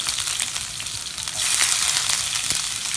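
Spices and chopped onion sizzle and crackle in hot oil for a Tamil-style chickpea (kondakadalai) gravy, a steady close frying hiss that swells slightly partway through, with no talking.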